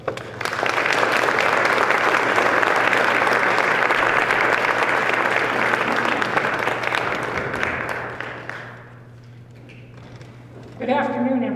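An audience claps steadily and loudly to welcome an honoree at a University of Alberta Augustana award event in Camrose, the applause fading out after several seconds before a voice begins speaking.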